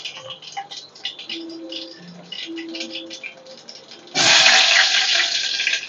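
Mustard and cumin seeds dropped into hot oil burst into a loud, crackling sizzle that holds steady to the end, after a stretch of quiet kitchen sounds with light ticks and clinks.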